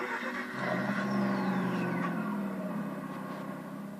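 A Mazda RX-8 rotary engine in Gran Turismo 6 hums and revs in a smooth, sustained tone that rises and then falls over a few seconds, moderately loud with no talking.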